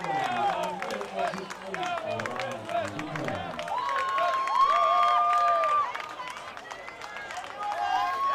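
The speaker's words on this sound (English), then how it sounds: "PK fans cheering in appreciation." Geelong-Korea baseball fans cheer and applaud a home run at a ballpark against the Brisbane Bandits, a loud sustained crowd roar with clapping, whistles and shouts.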